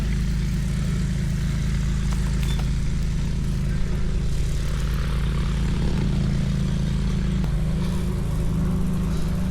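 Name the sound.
tow plane propeller aircraft flying over glider airport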